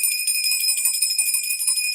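A small hand bell rings with steady bright jingling tinkles, continuous and fairly close, with no talking over it.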